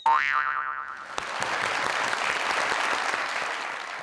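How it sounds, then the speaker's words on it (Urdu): Audience clapping bursts out after a brief opening tone and holds as a dense, even wash of applause, fairly loud and continuous throughout. "تبھی آپ نے تالی بجائی"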